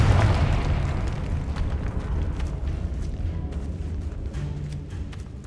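Confringo explosive spell blast in the Hogwarts Legacy video game, a loud booming burst up front that rolls into a long crackling, rumbling decay.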